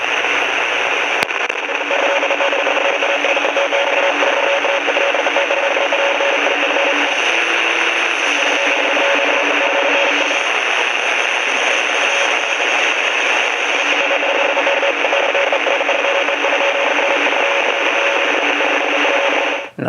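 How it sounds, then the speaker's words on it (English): A fast Morse code signal picked up on a Grundig FR200 radio, with short, broken tones pulsing steadily beneath a constant loud hiss of static. "And I'm pretty sure that's Morse code"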